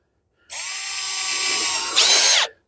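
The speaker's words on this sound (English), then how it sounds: "get a smaller drill bit. In this case, it's a 3mm drill bit, and we'll just put that through" A power drill fitted with a 3mm bit bores through a plastic outdoor socket box, a loud close whine that holds steady for about two seconds, rises in pitch as it breaks through, then winds down abruptly.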